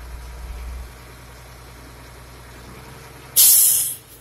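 A truck's engine idles low and steady while building air-brake pressure, then a loud, sharp hiss of released air bursts out and fades after about a second.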